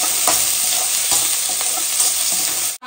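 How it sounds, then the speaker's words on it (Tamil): Chopped onion sautéing in a pan with pepper, cumin, fennel and cinnamon gives a steady, loud sizzle with occasional stirring scrapes, close up and without speech, then breaks off abruptly near the end. "ஸோ அதனால ஆனியன் வந்து லைட்டா சேர்த்துக்கலாம்."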